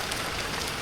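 Rain falls on the open top of a four-storey house, a dense, even hiss of drops hitting the surface, close and steady with no voices.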